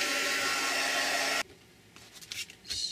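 Hair dryer blowing on wet paint on a piece of mail art, a loud close steady whoosh that cuts off abruptly, followed by faint rustling and handling noises.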